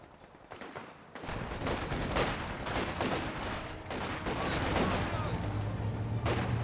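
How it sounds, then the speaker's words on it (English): A gun barrage in the real-time strategy game Company of Heroes 2 sets up and fires away, with dense repeated bursts of battlefield gunfire and explosions crackling loudly throughout, while a voice talks over it. "This gun barrage setting on up, firing away."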